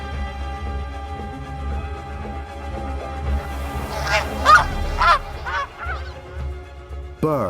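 Geese honk repeatedly while flying past buildings over a low, steady rumble of wind and air, the calls growing louder and clustering in bursts toward the end.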